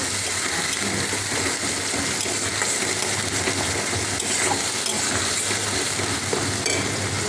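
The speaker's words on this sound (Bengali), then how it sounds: "এখন মাংসটা কষিয়ে নিই" Meat stir-fried in spices in a pan for a home-cooked curry, a loud continuous sizzle with scraping stirring strokes, close and steady throughout, no talking.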